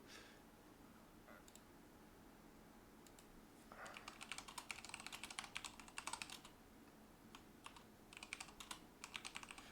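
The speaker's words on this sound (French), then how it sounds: "j'entends le son du clavier dans le retour" Rapid keyboard typing clatters in uneven bursts, faint and close, after a few scattered key clicks at the start.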